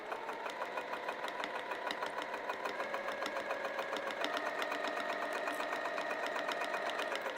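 Sewing machine stitching through a vinyl project bag, a continuous even motor hum with rapid needle ticking, close and fairly quiet, running steadily without talk.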